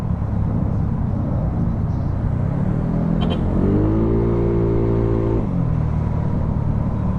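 Yamaha Mio Fino 160cc scooter with a refreshed engine, idling after carburetor tuning: a steady low rumble, with a brief rise in pitch and a sustained humming tone for a couple of seconds midway before it settles back.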